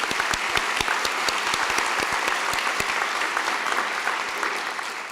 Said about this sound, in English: Don't keep clapping for another minute